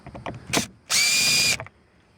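A power screwdriver backs a screw out of car interior trim on a TSX wagon: a short whir preceded by a brief spin-up, close and clear, alone with no talking.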